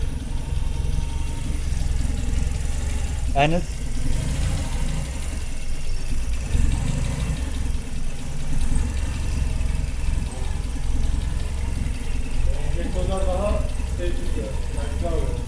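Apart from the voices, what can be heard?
car engine idling smoothly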